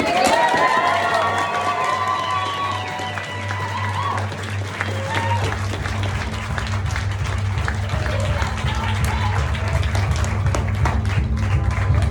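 Wedding guests at the Rowantree in Edinburgh erupt in cheers, shouts and applause for the newly announced couple, a loud crowd roar lasting throughout over steady background music.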